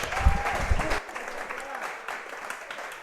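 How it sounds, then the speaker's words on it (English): Applause from a studio audience for a head coach on a weekly coaches' show, a brief burst of clapping heard under a speaker's voice that fades out after about a second. "let's give a big round of applause"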